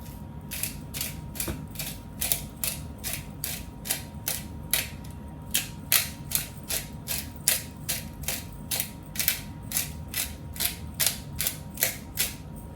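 A salt and pepper grinder cranks over onion tart filling in a quick run of dry ratcheting clicks, repeated bursts of grinding in a fairly even rhythm, close and crisp, with no talking.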